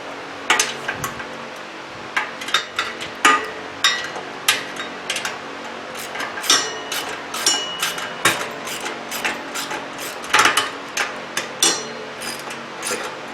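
Metal tools clinking and ratcheting while bolts are snugged up on a Harbor Freight concrete mixer during assembly, a steady run of sharp close taps and clicks over quiet room tone.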